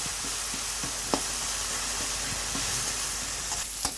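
Green chillies, garlic and onion frying together in a pan give a steady broadband sizzle throughout, with a few soft stirring clicks and scrapes scattered across it.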